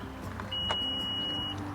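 A new car's power trunk lid closing by itself, signalled by a steady electronic beep tone lasting about a second over a quiet, faint background.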